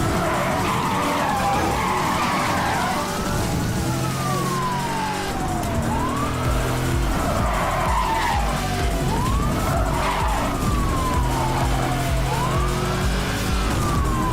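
A Corvette drives fast and skids in a video game, with sliding tire squeals under a wailing police siren that sweeps up and down repeatedly. The engine roars steadily throughout, loud and close.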